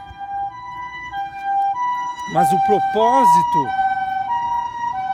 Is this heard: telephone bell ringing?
no